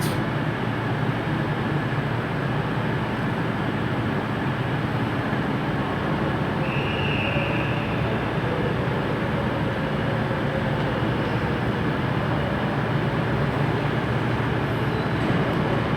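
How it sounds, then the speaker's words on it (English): A ScotRail Class 156 diesel unit pulls into a platform at Glasgow Central station, a steady broad rumble and hum with no break, close and continuous without talk. "coming in now is a class 156 unit"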